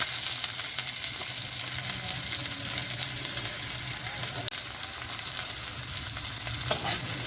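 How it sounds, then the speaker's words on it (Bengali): Onions fry in hot oil with a constant, crackling sizzle close up, steady and even, with a small tap of a utensil near the end. "তেল গরম হয়ে গেছে, এবার পেঁয়াজগুলো দিয়ে দেব"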